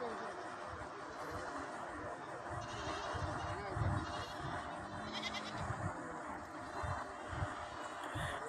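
Goats bleat at a Kerala livestock market, with calls rising over a steady crowd of talking voices and market bustle throughout.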